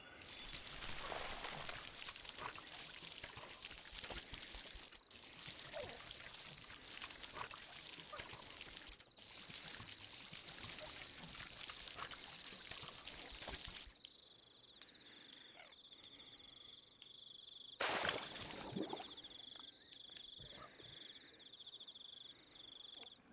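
Water pouring steadily as plants are watered in the Garden of the Sea VR game, a continuous splashing stream under a constant high insect-like chirp, which persists alone once the pour ends.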